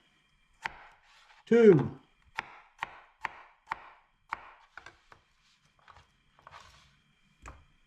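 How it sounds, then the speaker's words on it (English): Knife cutting through potatoes on a cutting board for a simple stew: a steady series of about nine sharp chops with short gaps between them, close and clear, with a brief spoken word near the start. "When you cut a potato, you're going to put it on there and pull the knife through."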